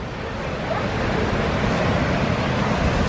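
Surf rolls and wind buffets the microphone on Nuraman beach in Hua Hin, Thailand, a continuous broad wash of waves and breeze that swells slightly after the first second, with no voices.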